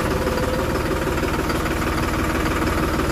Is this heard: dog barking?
no